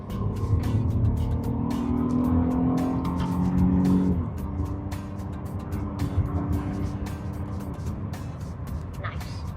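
Renault Laguna V6 accelerating in manual mode, engine note rising in pitch through a gear then dropping at a shift and pulling again, heard from inside the car under road noise and intermittent clicks.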